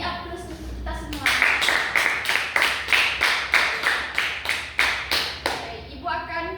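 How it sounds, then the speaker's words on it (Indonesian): A classroom of children claps together in a rhythmic pattern of about fifteen sharp, evenly spaced claps, loud and close, with a brief voice before and after. "Beri aplaus untuk kita semua."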